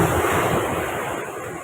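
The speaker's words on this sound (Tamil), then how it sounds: "பாருங்கள், தண்ணி எப்படி வந்து ஊற்றுது பாருங்கள்" Rough sea surge waves pour water onto a coastal road at Pazhaverkadu, a loud steady rushing wash with wind buffeting the microphone throughout.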